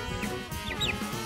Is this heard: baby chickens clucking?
yes